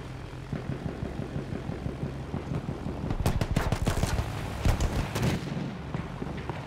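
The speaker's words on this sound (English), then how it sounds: "my teammates are shooting this guy" Rapid gunfire from teammates in Battlefield 1, a burst of sharp overlapping shots that thickens in the middle and tails off, over a steady low engine drone of battlefield ambience.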